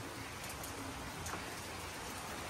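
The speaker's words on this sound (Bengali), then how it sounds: "এই দেখো ঝমঝমিয়ে বৃষ্টি এসে গেছে।" Heavy rain pours down outdoors in a dense, steady wash of noise, with faint bird sounds and no one speaking.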